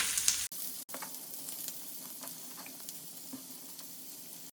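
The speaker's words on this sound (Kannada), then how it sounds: "ಈರುಳ್ಳಿ ಮತ್ತು ಕೋಸು ಎರಡನ್ನೂ ಒಟ್ಟಿಗೆ ಹಾಕ್ತಿದ್ದೀನಿ" Onion and cabbage sizzle together in a hot pan, a soft continuous frying crackle with occasional small pops and a brief stirring clatter near the start.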